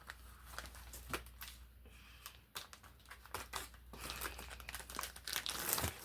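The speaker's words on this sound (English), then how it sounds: "Trying to get it open. My scissors really are dulled out now." A vacuum-sealed plastic package crinkles and rustles up close while being cut open with dull scissors, producing steady crackling with sharp snips and crunches, growing louder toward the end.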